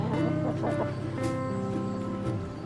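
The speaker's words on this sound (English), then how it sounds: "I've got chickens following me." Chickens cluck close by in a steady run of short calls, loud and alone, as the birds follow someone expecting kitchen scraps on a homestead.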